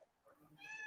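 A house cat gives a short, faint meow, rising briefly near the end of a quiet moment in a room.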